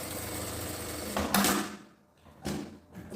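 Sewing machine stitching close along the edge of a small quilted phone pouch, a steady mechanical whir that stops, then restarts in short bursts with brief pauses between, close and fairly quiet.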